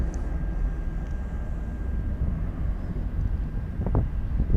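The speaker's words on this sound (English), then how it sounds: "just beneath it is Southwest Flight 2583 going out to" A Southwest Airlines jet departs Dallas Love Field at night, a low continuous engine roar at a distance, steady and rumbling with some wind noise on the microphone.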